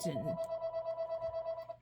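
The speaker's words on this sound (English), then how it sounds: "I hate it when the house phone rings" House telephone ringing with a steady electronic warble tone that pulses rapidly and continuously for nearly two seconds, clear and fairly close, with a voice briefly at the start.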